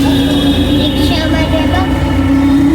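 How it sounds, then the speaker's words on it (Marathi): An auto rickshaw engine runs steadily with a droning hum during a ride to Santacruz station in Mumbai, and a voice speaks over the engine noise throughout. "मी आता रिक्षामध्ये बसली आहे. हे बघा गाडी चालते."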